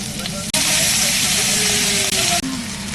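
A steak searing in a pan on really high heat, a loud burst of sizzling hiss that flares up, holds for about two seconds, then drops back to a lower crackle, with a low mechanical hum underneath.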